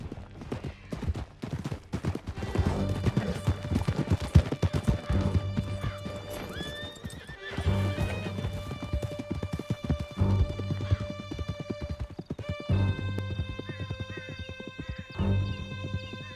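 Horses gallop in Red Dead Redemption 2, their loud, rapid hoofbeats pounding close by, with whinnies and sustained musical tones layered over the drumming hooves.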